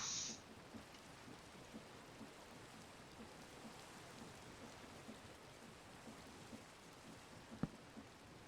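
Steady rain in Minecraft, a soft continuous hiss with faint patter throughout and one brief sharp tick near the end, no voices over it.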